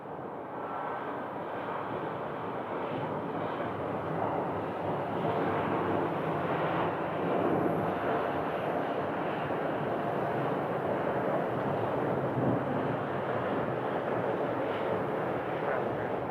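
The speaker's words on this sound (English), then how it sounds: "I believe that's the flight from JFK, the 737 MAX" A Boeing 737 MAX airliner on the flight from JFK roars steadily at Phoenix Sky Harbor Airport, a broad, continuous jet rumble that swells slightly and holds at a moderate distance.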